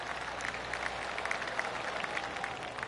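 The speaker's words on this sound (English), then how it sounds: "I can hear the golf claps around the course." A gallery crowd on a golf course in PGA 2K25 gives steady polite golf claps, a continuous patter of many hands at moderate distance with no talk.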